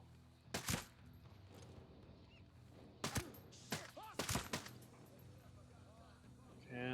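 Gunfire in the video game Ghost Recon Breakpoint, with several sharp bursts of shots spread over a few seconds, fairly loud against quiet background game sounds.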